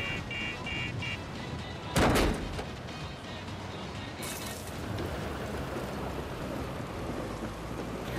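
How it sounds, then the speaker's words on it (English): Steady rainfall in the open-world video game Far Cry 6, a continuous broadband wash of moderate level with a brief louder crack like a thunder burst near the start. "Oh, it's raining again. I love the rain in this game."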